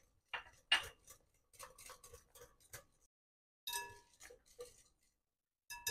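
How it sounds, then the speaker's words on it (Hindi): Spoon clinking against a bowl while lemon juice is mixed into muffin batter, with scattered light taps and clinks in short bursts, close and fairly quiet. "देखिए हमने नींबू का रस भी मिक्स कर लिया है इसमें अच्छे से।"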